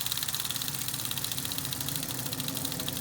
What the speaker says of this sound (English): all wheels make the ratcheting sound when you're riding, so you can hear it here